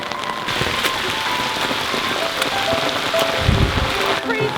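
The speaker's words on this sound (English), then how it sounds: "we are in the middle of a torrential downpour" A torrential downpour drums hard and steadily on a surface nearby, a loud dense patter with occasional heavier drops and a brief low thump near the end.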